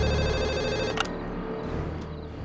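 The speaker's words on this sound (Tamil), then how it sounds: "டேய் ஃபோன் எடுத்து யார் என்னான்னு கேளு." A landline telephone rings indoors in a home, its steady electronic bell tone running nearly continuously and fairly loud through the whole stretch, with no talk over it.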